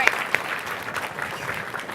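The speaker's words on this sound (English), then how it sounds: "Please, a huge round of applause for Kelly Sue DeConnick." Short burst of audience applause at a comic convention panel for Kelly Sue DeConnick, steady clapping with crowd murmur underneath, a couple of sharper claps standing out at the start.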